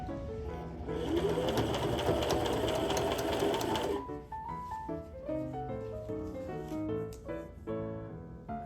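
A sewing machine with its needle sticking out of place stitches fabric for a renaissance dress. A close, rapid mechanical whirring lasts about three seconds and then stops, leaving faint tonal background sounds.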